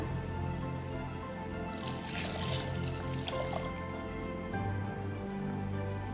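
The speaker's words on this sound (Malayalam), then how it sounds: "അതിന് ശേഷം നമുക്ക് വെള്ളം ഒഴിച്ചു കൊടുക്കാം ആവശ്യത്തിന് വേണ്ടത്." Water pours into a pan of Kerala-style fish curry over mustard seeds fried in oil, a soft continuous splashing with a brighter burst in the middle, faint and close, with no talking.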